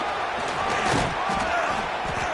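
A stadium crowd at a football game, likely college, roars in a steady wall of noise with swelling cheers and scattered shouts, loud and constant throughout.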